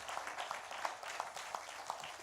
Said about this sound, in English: can we have a round of applause for our facilitators, please?